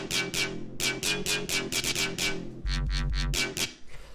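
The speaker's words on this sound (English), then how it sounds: "the first thing I'm going to show you are these mid-range basses" Mid-range synth basses for a UK bass track pulse in a choppy, rhythmic pattern, bright and buzzy, with a deep sub bass entering near the end, loud and without voices.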